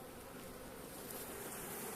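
Caucasian and Carniolan honeybees crowd a full-strength hive readied for winter, giving off a steady, dense, close buzz that holds evenly throughout with no voices.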